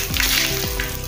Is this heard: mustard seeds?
yes